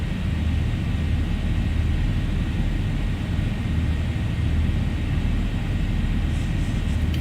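A Zibo Mod airliner in X-Plane 11, flying United 670 from Chicago O'Hare to Boston, rolls out for takeoff: a steady, loud engine roar and rumble holds unbroken throughout, with no voices.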